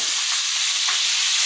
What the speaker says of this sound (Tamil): ஆனியன் நல்லா ஃப்ரை ஆகுது